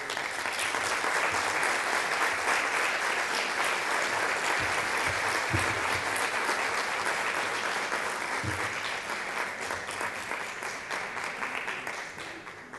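A lecture audience at an academic conference gives sustained applause after the talk, dense continuous clapping that holds steady and then tapers slightly toward the end.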